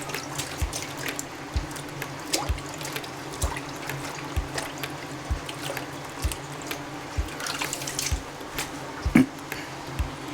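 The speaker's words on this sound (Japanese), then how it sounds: "でその間によくブロッコリーを洗う。" Broccoli is washed under a running kitchen tap: a continuous splash of water with wet squishing and handling noises, and a few louder knocks near the sink.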